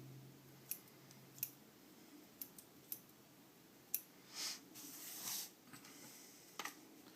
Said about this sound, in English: Next, I trim these down.